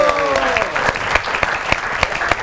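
A studio audience on the Pakistani comedy talk show Tanz O Maza breaks into loud, steady applause to welcome guest Jawad Waseem, with dense close clapping throughout and a brief tonal voice near the start.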